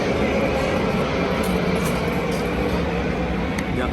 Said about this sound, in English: you can hear the plane in the background